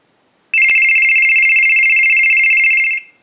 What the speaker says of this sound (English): We want to use the analyzer here and ring the unit.